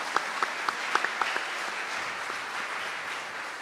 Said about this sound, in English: If you could help me give them a round of applause.